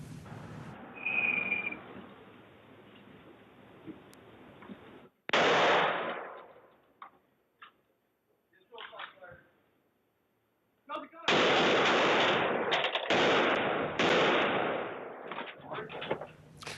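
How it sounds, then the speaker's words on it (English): Gunshots fired by Austin police officers at a scene, loud sharp bursts in separate clusters with near silence between them, and a voice faintly audible early on. "So that first gunshot that you heard on that video"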